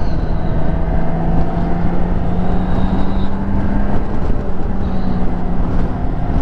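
A BMW K1600B cruiser motorcycle engine hums steadily while cornering on the road, a loud continuous drone mixed with wind rush, with no pauses.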